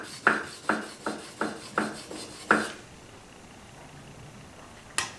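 A plane blade being sharpened to raise a burr: about seven distinct rasping strokes in an even rhythm, close and crisp, then quiet, then one sharp click.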